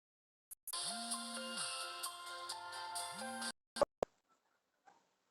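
WhatsApp incoming call ringtone plays loud and close, a steady melodic ring lasting about three seconds, then cuts off, followed by a few sharp clicks and handling knocks.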